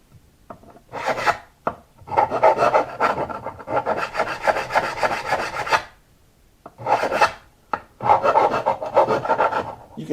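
A file rasps back and forth across guitar fret edges on a Martin HD-28 in two long bursts of steady scraping strokes, close up, with a short pause between them.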